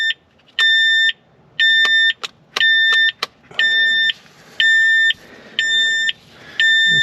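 Terex/Schaeff HR18 mini excavator from 2006 sounding an electronic warning alarm, a loud repeating beep in regular on-off pulses, close by, with a few sharp clicks early on.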